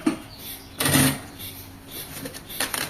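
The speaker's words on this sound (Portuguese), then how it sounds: "Então, eu vou costurar." A sewing machine stitches a tablet and planner case in short bursts: a brief run near the start of the clip and a second near the end, with quiet handling between.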